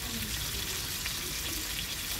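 Pork and other meat searing in lard in a pan, giving a steady dense hiss and sizzle with no break.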